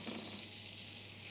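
Steak sizzling in a pan with a small knob of melted butter being spooned over it, a steady, close, dense frying hiss with no pauses throughout.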